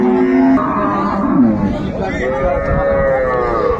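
Cows and calves at a busy rural livestock market in Dinajpur, Bangladesh, with a loud nearby moo rising over the steady hubbub of a crowd talking throughout.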